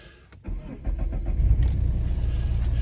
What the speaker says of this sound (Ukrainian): Так, заводимо.